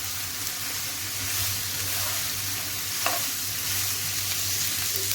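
Cabbage sautés on a high flame, giving a steady close sizzle and hiss with light stirring scrapes and no talking.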